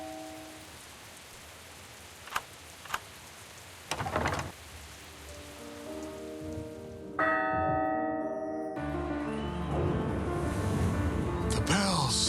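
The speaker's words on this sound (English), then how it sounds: "The bells ring out." Church bells ringing in the video game Dark Tales: The Bells, several tolls rising over a rainy backdrop of steady rainfall and scattered drops, growing into a loud, layered peal toward the end.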